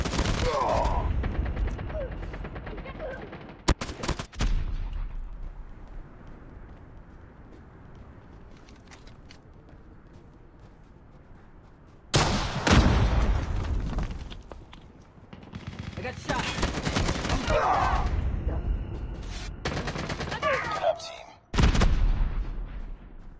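Call of Duty Mobile gunfire in a team deathmatch: loud bursts of automatic fire separated by quieter stretches, with sharp isolated shots and some talk during the lulls.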